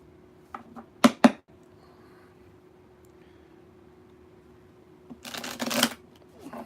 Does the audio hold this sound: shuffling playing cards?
yes